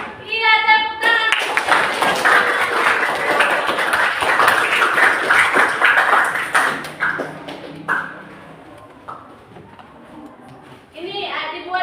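Students in an eighth-grade maths classroom clap their hands together in a dense, loud burst lasting several seconds, fading out as the teacher's voice speaks before and after.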